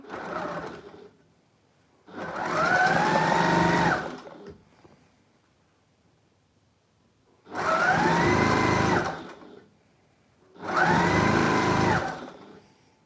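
A sewing machine runs a top seam on a charity-shop quilt in three loud, steady bursts of a few seconds each, with quiet pauses between, plus a brief run at the start.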